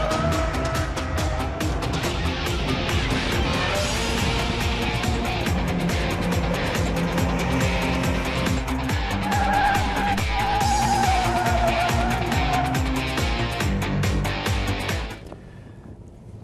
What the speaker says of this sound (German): Also hier auf dem Handlingskurs zeigt der Audi S1 seine wahre Stärke.